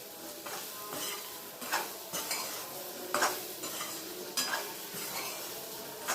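Chopped mango pieces being stirred into a garlic mixture in a pan with the flame off, rhythmic spoon scrapes and soft clacks against metal over a faint lingering sizzle, close up and without talk.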